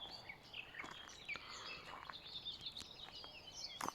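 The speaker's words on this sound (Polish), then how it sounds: "tą ciszą wzmąconą jedynie przez śpiew ptaków" Birds singing outdoors at a quiet spot near a home, scattered chirps and short song phrases over soft ambient background, faint and somewhat distant.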